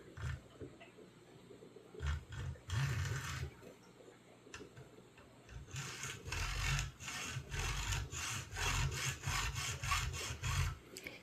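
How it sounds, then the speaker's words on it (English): Hand saw cutting through an RC trailer deck, steady back-and-forth strokes in bursts with short pauses, close and fairly quiet, no talk. "once you start getting your cut established, then it should be fairly simple and you'll be able to cut down to your cut line"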